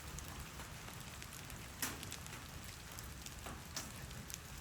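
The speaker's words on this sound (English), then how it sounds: "I don't know if you can hear the raining in the background" Steady rain patters outdoors, a dense continuous hiss with a few sharper drips and crackles popping out now and then.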